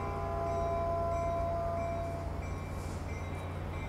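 A Caltrain commuter train idles at Mountain View Station with a steady low rumble and humming tones, a continuous mechanical drone with no talking.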